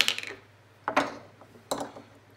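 A hiking stove being screwed onto a fuel canister, three short metallic scraping, ratcheting twists at close range with pauses between them.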